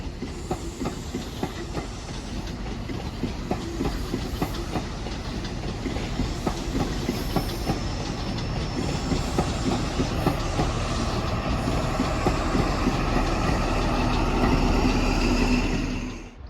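An Avanti West Coast Class 390 Pendolino from Glasgow Central to London Euston runs through Crewe station, a steady rumble with rhythmic clickety-clack of wheels over rail joints building gradually, loud and close, then cutting off abruptly.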